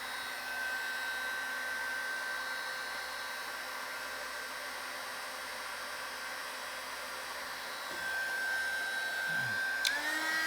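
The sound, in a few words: 350W mini heat gun shrinking heat shrink tubing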